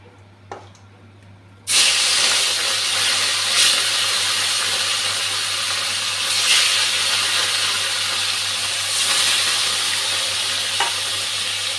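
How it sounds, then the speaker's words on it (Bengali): Rui fish goes into hot oil and a loud, sudden sizzle bursts up, then holds as a dense, steady crackling hiss with small spits and pops; quiet room sound before the drop, no talking. "তেলটা গরম হয়ে গেছে, মাছটা ভাজতে দিয়ে দিচ্ছি।"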